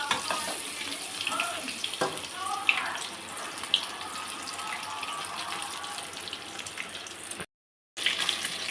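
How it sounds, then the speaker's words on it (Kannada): Chicken kebabs frying in hot oil, a steady bubbling hiss throughout with a few sharper crackles, close and moderately loud, broken briefly by a short silent gap near the end. "ಒಂದೊಂದಾಗಿ ಹಾಕ್ಬಿಟ್ಟು ನೀಟಾಗಿ ಫ್ರೈ ಆಗಲಿ ಇದು ಎಣ್ಣೆಯಲ್ಲಿ"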